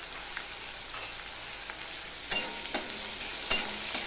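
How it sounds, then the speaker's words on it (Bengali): Onions frying with salt in a pan for chicken curry, a steady close sizzle with occasional scraping clicks of a spatula stirring through them. "দিয়ে এটা সমানে আমি ভাজতে থাকবো।"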